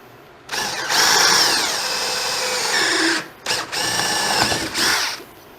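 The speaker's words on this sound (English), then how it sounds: "So we're just going to drill a simple hole." A power drill bores an entry hole for a jigsaw, running loud and steady with pitch shifts as it bites, briefly stopping, then whirring again in two further bursts.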